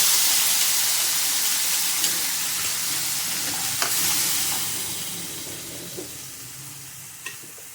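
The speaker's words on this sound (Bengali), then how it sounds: "এই আদা জিরে হলুদ লঙ্কা এই মশলাটা আমি এখানে ঢেলে দিলাম" Ginger, cumin, turmeric and chilli spices sizzle steadily in hot oil in a pan, with a few light clicks of a spoon stirring through the continuous frying hiss.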